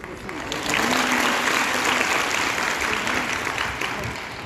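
A school assembly audience claps for a few seconds at a Tilak memorial and Annabhau Sathe anniversary function, a dense, fairly even burst of many hands that swells quickly and then holds before tapering slightly.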